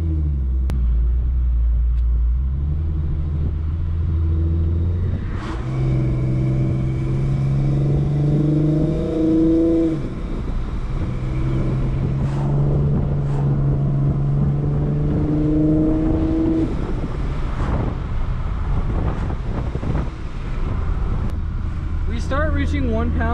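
A supercharged Infiniti Q50 on street pulls at 15+ psi: a loud, steady engine drone near the car, climbing in rising revving sweeps through the gears, with brief shift breaks.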